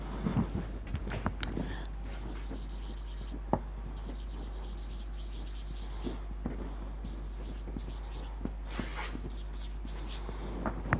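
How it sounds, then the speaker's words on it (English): Writing on a board during a lecture, faint intermittent scratching and tapping strokes against steady background hum, continuing throughout. "I'll like to write this down actually."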